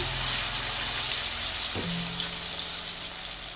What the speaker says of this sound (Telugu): ఇంక ఇప్పుడైతే డీప్ ఫ్రై చేసుకుందాము